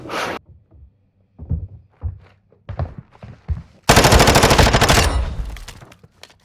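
Gunfire in Call of Duty: Modern Warfare II at the Breenbergh Hotel: scattered single shots and thuds, then a loud sustained burst of rapid automatic fire, close and dominant, with no talking.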